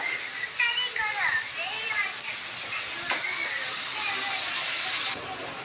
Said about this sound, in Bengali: এই যে এইদিকে হচ্ছে ভেজে নিচ্ছি মাছ ভাজা, অনেকটাই ভাজা হয়ে গেছে